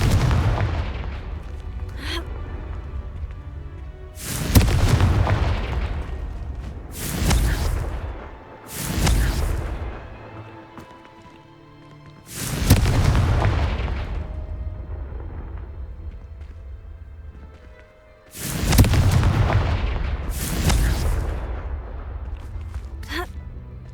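Confringo fire spell blasts in Hogwarts Legacy, a series of heavy booming explosions spaced irregularly over about twenty seconds, each with a sharp onset and a rumbling tail.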